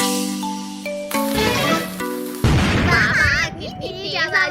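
A rope bomb firecracker goes off in a Hindi cartoon: after a short musical lead-in, a sharp boom bursts out midway, followed by lively voices talking over the noise.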